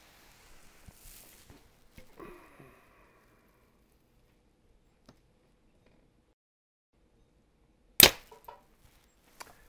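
Prime Nexus 2 compound bow with a 65-pound draw, shot through a chronograph: faint handling clicks, then one sharp, close snap of the release near the end in an otherwise quiet space.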